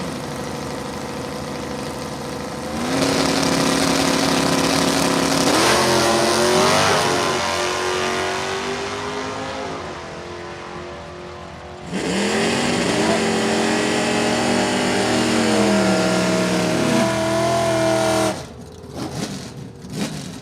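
V8 engines of a '72 Ford Mustang with a 351 Ford motor and an '83 Camaro 305 roar at a drag strip, revving loudly, then surging in two long rising runs, with announcer talk mixed underneath.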